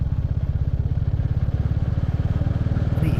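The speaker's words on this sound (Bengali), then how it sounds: "এই রাস্তা দিয়ে বাইক চালিয়ে যাওয়ার মজাটাই কিন্তু আলাদা।" A motorcycle engine thrums with a fast, even pulse on a hilly mountain road, close and steady throughout the short stretch.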